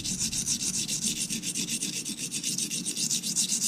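Knife blade sharpened freehand on the coarse side of a Norton crystalline oilstone, a continuous rhythmic gritty rasping of quick back-and-forth strokes, close and steady with no talking.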